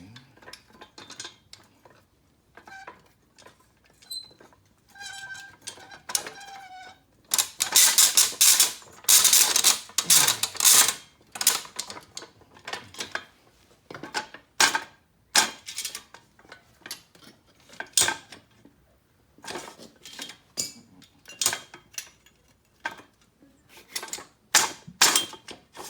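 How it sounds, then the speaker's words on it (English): A threaded shaft being worked out of a MoJack lift assembly: irregular metallic clanks, rattles and sharp taps, close and loud, in bursts with short quiet gaps and a dense flurry of scraping in the middle. "see if we can remove the whole threaded shaft from the assembly"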